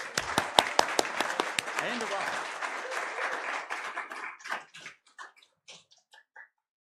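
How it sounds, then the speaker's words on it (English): Loud applause from a church congregation, dense clapping that thins out into a few scattered claps before stopping. "So let's give a round of applause"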